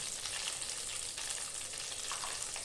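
Small chopped onions fry in hot oil while chicken is cooked, giving a loud, steady close-up sizzle that runs unbroken from start to finish with no voices.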